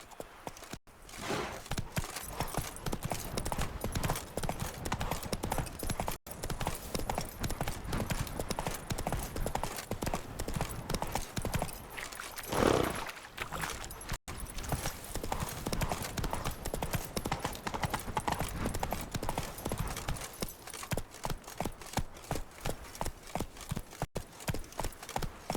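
Roach the horse gallops in The Witcher 3, hooves pounding in a fast, steady rhythm for the whole stretch, close and continuous, with a brief neigh midway.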